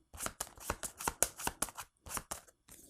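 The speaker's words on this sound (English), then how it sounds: "we'll shuffle these up, and then we'll read and find out what happens here" Cards shuffled for an Elder Scrolls V Skyrim board game, a run of quick papery riffles and snaps in uneven bursts, close up and fairly quiet, with no voices.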